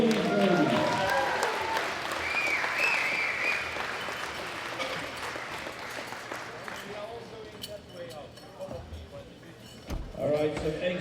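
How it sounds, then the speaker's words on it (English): Audience at a women's world classic powerlifting championship applauding the lifters, clapping that starts strong and tapers off, with people talking and a few clinks underneath. "Big round of applause for all these ladies."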